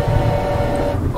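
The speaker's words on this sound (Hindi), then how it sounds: "ठीक है चलो भाई इस ट्रेन को चलाते आगे" Train running in the horror video game Choo Choo Charles, a steady low rumble with a sustained mechanical tone held throughout, loud and continuous with no talk.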